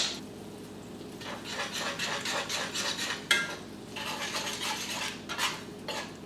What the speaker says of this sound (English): you kind of just want to mix the vegetables in there